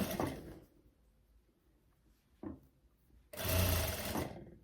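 A sewing machine stitches a narrow hem along the bottom ruffle of a long dress. A short run of stitching opens, followed by a quiet pause and a brief tap, then a longer, louder run of steady machine whirring near the end.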